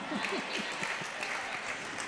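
Steady applause from an audience at a Jain religious discourse, many hands clapping together continuously at a fairly low level, with some murmuring beneath it.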